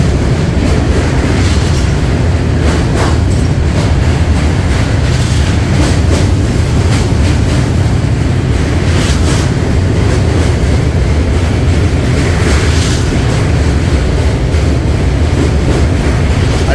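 The Mithila Express crosses the Rajendra bridge over the Ganges with a loud, steady roar and a continuous metallic rattle of the coaches, heard up close from on board for the whole stretch without talk.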